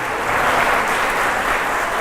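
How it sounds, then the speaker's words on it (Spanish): Audience at a religious talk applauding Saint Teresa of Calcutta on the eve of her canonization, a steady dense wash of clapping filling the whole moment without a break. "¿Quién le da un aplauso a Santa Teresa de Calcuta?"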